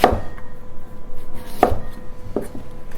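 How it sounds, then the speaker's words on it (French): A knife chops celery into quarters on a cutting board for a lamb tajine, three sharp, close knocks spaced about a second apart with no talking. "on va rajouter le céleri qu'on va venir tailler en quartier comme ça."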